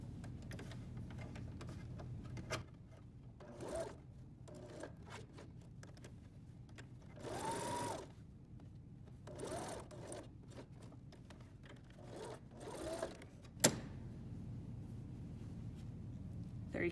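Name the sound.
sewing machine top stitching a coverall seam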